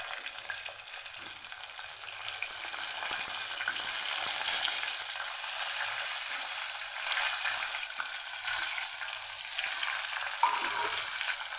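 Stuffed brinjals frying in hot oil with crackling mustard seeds, cumin and asafoetida for a Kathiyawadi green pigeon pea and brinjal curry, giving a steady, close sizzle that runs throughout with occasional brief pops and no talking.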